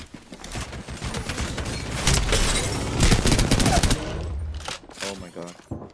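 Enemy gunfire in a shooter video game rattles in dense automatic bursts, swelling loud in the middle and trailing off near the end, with a voice speaking over it.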